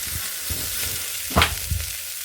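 Cluster beans frying in a pan for a masala gravy, giving a steady soft sizzle with a few louder stirring scrapes and clatters, close by and with no talking.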